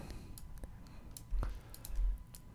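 Several faint, scattered mouse clicks during Photoshop editing, small separate taps spread irregularly, close and quiet, with a few soft low thumps between them.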